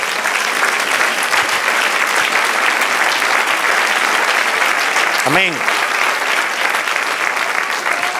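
A church congregation breaks into loud, sustained applause during a sermon, a dense continuous roar of clapping, with a brief voice rising through it midway.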